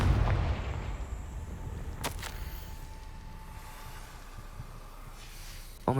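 Confringo fire spell explosion in the video game Hogwarts Legacy, a sharp boom at the start, another crack around two seconds, and a fading rumble with a faint tone behind.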